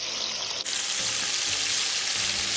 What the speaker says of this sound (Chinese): 将香料渣直接放入油炸。